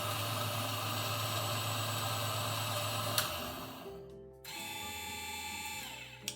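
A Niche Zero coffee grinder runs with a steady loud motor whine and grinding rattle for several seconds, then cuts off and winds down into a quieter hum.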